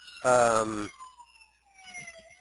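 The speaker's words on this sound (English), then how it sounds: "pardon the siren in the background." A siren wails faintly in the distance, its falling tone drifting beneath a brief burst of speech near the start.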